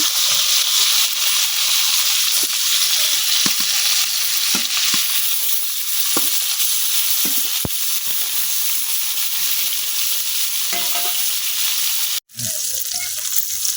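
Eggplant pieces lightly frying in oil in a village kitchen, a loud continuous sizzle and hiss close up with occasional stirring knocks, briefly cutting out near the end.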